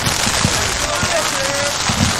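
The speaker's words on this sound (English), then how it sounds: "Getting a little bit of rain in on me." Rain pattering on a small canopy at an outdoor baseball game, a dense steady hiss of drops close overhead with a few louder taps, no talk over it.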